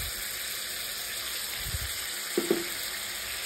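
Cashew, melon seed and poppy seed paste frying in a pan for fish rezala, a soft steady sizzle with a few light stirring knocks.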